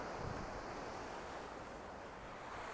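Ocean surf at Laguna Beach, a steady soft rush of waves mixed with wind noise on the microphone, quiet and continuous with no voices.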